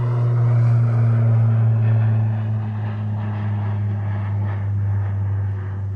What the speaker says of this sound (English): Just gonna let this plane fly over real quick.